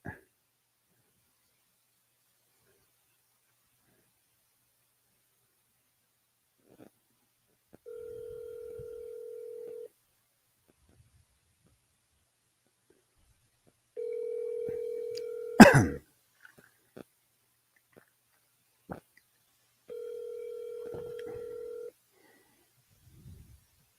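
A telephone call is placed, and three separate steady two-second tones repeat at regular intervals against near silence, with a sharp click or bump between the second and third tones.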